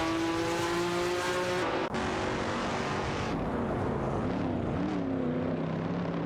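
Race car engines roar in a racing video game, a steady loud harmonic whine that drops abruptly near two seconds, then continues as engine tones rising and falling as cars pass, with no talk.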